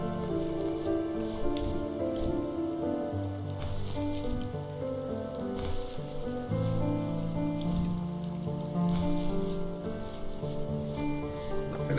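Steady rain in The First Tree patters densely on surfaces, a continuous hiss of droplets with soft musical tones underneath, moderately quiet and unbroken.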